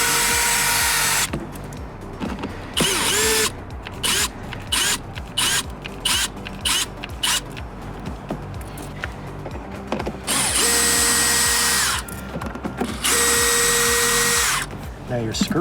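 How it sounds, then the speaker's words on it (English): A power drill backs screws out of side step mats in loud whirring bursts, stopping and starting repeatedly with short pauses and ratcheting clicks between runs. "And we're going to remove all the screws."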